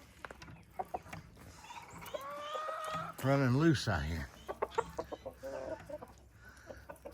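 Roosters and guinea fowl in a farm pen call out loudly with clucks and harsh cackling crows, one long nearby crow standing out midway, while someone talks over the birds throughout.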